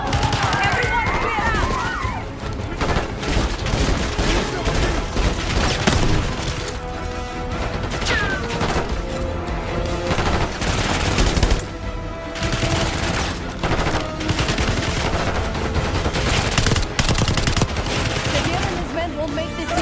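Heavy automatic gunfire and booms in a Call of Duty: Black Ops 6 campaign battle, loud and sustained for the whole stretch, with shouting voices mixed in over the shots.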